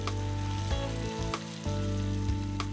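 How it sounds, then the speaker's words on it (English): Steady sizzling and frying of beef browning in olive oil in a hot frying pan, continuous crackle with a low background hum and occasional clicks. "The beef isn't going to stay in the pan, I'm just browning it"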